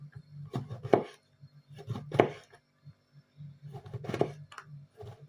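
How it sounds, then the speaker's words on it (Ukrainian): A knife chops squid into long, thin strips on a cutting board for a holiday salad, in three short clusters of quick, close taps separated by brief pauses. "Якщо кальмар ми нарізали е, довгими тоненькими смужками"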